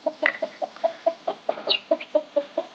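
A hen clucks close by beside hatching chicks, a steady series of short, even clucks repeating about every quarter second, with a faint higher peep or two mixed in.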